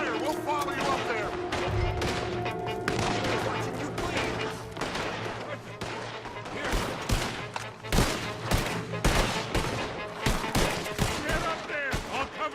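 Heavy gunfire crackles through a Red Dead Redemption 2 shootout in Saint Denis, with rapid overlapping shots and bursts, loud and continuous over background music, while characters shout and talk.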